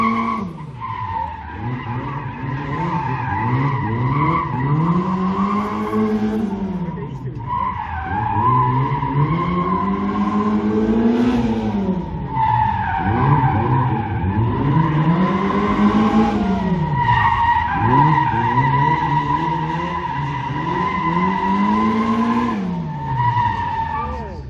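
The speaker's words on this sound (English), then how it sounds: "This is how you drive an MG Midget." A small MG Midget sports car driven hard, its engine revving up and down in repeated sweeps with tires skidding and squealing, loud and continuous.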